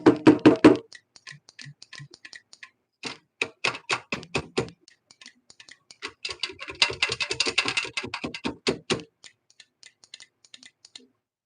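A device is struck repeatedly by hand, giving a loud, close series of knocks and clicks in irregular bursts, with a pause between the groups.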